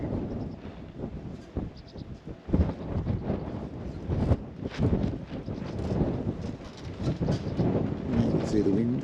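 Steady wind buffeting the microphone on the open beach at Shark Bay, a continuous rumbling roar with gusts that swell and fade throughout.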